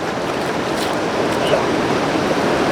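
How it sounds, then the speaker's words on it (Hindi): The cold water of the Kargah Nallah mountain stream near Gilgit rushes in a steady, loud, broadband roar, with no break. "ये है जी कारगा नाला। ये बहुत ही ठंडा पानी है इसका"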